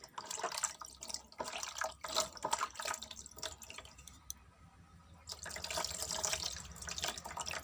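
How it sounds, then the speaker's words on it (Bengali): Water poured over a small Gopal deity idol during a morning bathing ritual at a home shrine, a steady splashing and trickling stream that thins briefly near the middle before resuming. "আমার গোপাল সোনা স্নান হয়ে যাচ্ছে সকাল সকাল"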